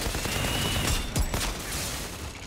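Rapid gunfire from the video game Outriders crackles in a dense, continuous burst with a couple of sharper shots standing out, loud and close, with no talk.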